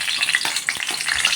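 Onions sizzle and crackle in hot oil in a pan while kinamatisang beef ribs are being cooked, a steady bright frying hiss with a few stirring scrapes, close and continuous with no talking.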